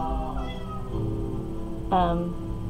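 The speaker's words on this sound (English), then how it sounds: "my cat is meowing" A pet cat meows once indoors, a short, clear, rising cry close by, heard under a continuous hum and a woman's speech.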